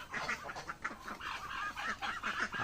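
Ducks at a village pond, a cluster of quacks and nasal calls overlapping at moderate distance in open outdoor air, continuing throughout with no clear talk.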